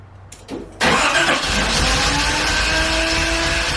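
A Nissan 280ZX engine cranks over briefly, then catches and fires into a loud, steady, rough idle that runs close by to the end, with no talking.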